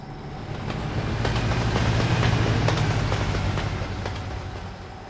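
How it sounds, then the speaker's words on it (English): A train rumbles past in American Truck Simulator, a steady low mechanical roar that swells toward the middle and eases off again, heard from inside a truck cruising a Colorado highway. "You could hear a train going by too,"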